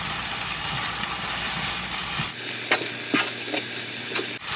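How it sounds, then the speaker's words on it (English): A spoon stirs eggplant with a few drops of balsamic vinegar in a pot, steady close scraping and sizzling that drops to quieter stirring with a few sharp clinks, no voices. "a little bit of balsamic vinegar. Just a few drops. That adds flavor to it as well. Nice. Mix that in."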